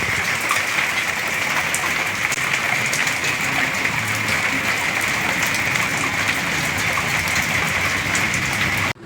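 Steady, dense rain falls hard and close in Navanagar, a constant even hiss and patter on surfaces that fills the whole stretch without pause and with no voices over it.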